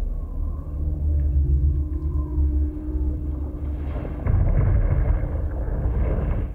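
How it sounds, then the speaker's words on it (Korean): Deep volcanic eruption rumble from a disaster film played in a room, a heavy low roar that surges louder partway through with a noisy, blustery texture. "화산 폭발이 시작되었습니다."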